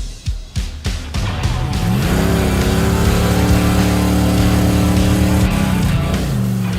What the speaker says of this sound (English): Okay, he just took off going right, which is the wrong way to go on a circle track.